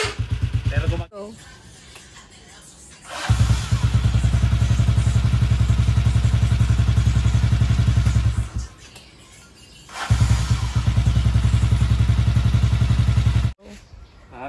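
A motorcycle's electric starter motor grinds roughly in long, loud, rattling bursts with brief quiet gaps between attempts, and a person talks in the pauses.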